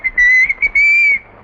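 A person whistles a few sharp, high notes: a short chirp, then a long sustained tone, and another long steady note fading out, loud and close with no talk.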